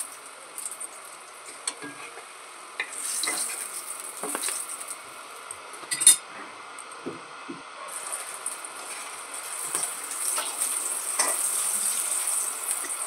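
Paratha frying in hot oil for breakfast, a steady bright sizzle that swells and fades, with occasional soft scrapes and clinks of a utensil against the pan; no voices.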